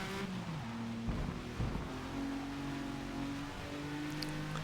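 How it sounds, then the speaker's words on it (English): Racing car in Forza Motorsport sliding on water, its engine droning steadily with shifting pitch as the tires skid, close and continuous without any voices. "This is a kind of skidding I would never hear in real life"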